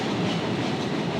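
A Kolkata metro train runs along the track with a loud, close, continuous rumble and rattle, a steady roar of wheels and carriage noise filling the whole moment.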